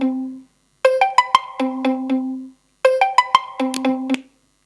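A video call ringtone plays a short, bright melodic pattern twice, loud and clear with a brief silence between the two rings.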